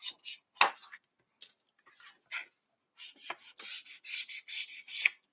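Paper edges rubbed with an ink pad while piecing a scrapbook spine from 3/4 inch strips, heard as short, soft scuffing strokes in uneven bursts, close up and alone.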